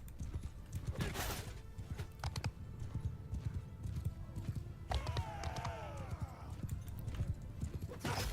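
Horses galloping in the Bannerlord video game, continuous quick hoofbeats under combat clatter, with a whinny rising in the middle.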